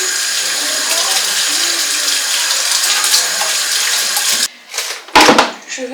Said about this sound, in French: Je vais ensuite assaisonner mes côtes. Je vais rincer d'abord.